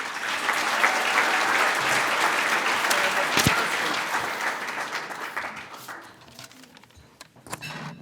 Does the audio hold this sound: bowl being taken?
no